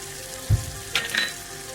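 Dried red chillies and onions hitting hot oil on a spinach dish, giving a short sizzle with a soft thump of food dropping in and a couple of brief stirring scrapes, no talking.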